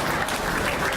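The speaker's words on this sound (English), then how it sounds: "how about a nice round of applause for Mr. Nino DePasco" A crowd at a cultural and event centre applauds an entertainer, a dense, steady wash of clapping from many hands.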